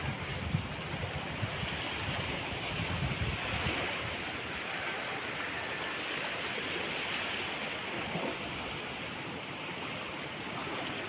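Monsoon flood water rushing steadily in a broad, even wash, constant and fairly soft with no voices.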